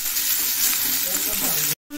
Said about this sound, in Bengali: আমরা দিয়ে দেবো কেটে রাখা কুয়াশার আলুগুলোকে, দিয়ে ভালো করে ফ্রাই করে নিতে হবে।